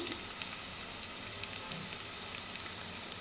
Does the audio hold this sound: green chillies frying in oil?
yes